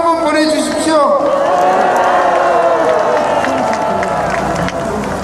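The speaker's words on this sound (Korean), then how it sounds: "여러분 박수 한번 보내주십시오" Outdoor crowd at a patriotic citizens' rally in Gwanghwamun, Seoul, clapping and cheering loudly and continuously, a dense wash of applause with voices and whoops mixed in throughout.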